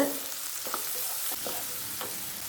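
Sliced onions fry in hot oil with garlic for a peanut kara kuzhambu, giving a soft, steady sizzle, with a few faint scrapes of stirring in the pan.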